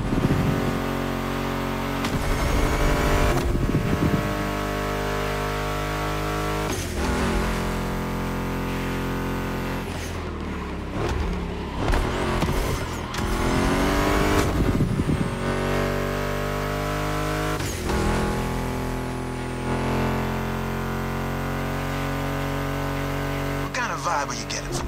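A Ford Mustang GT muscle car engine in the racing video game The Crew Motorfest revs and roars loudly and continuously, with gear changes and rising, falling pitch, while a voice talks over it.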